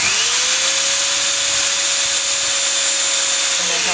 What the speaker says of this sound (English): Bottom out the drill.